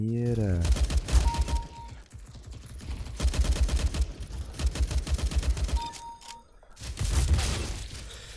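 Rapid bursts of automatic gunfire from Counter-Strike: Global Offensive fill most of the stretch, dense crackling volleys broken by brief pauses, with a couple of short electronic tones and game voices mixed in.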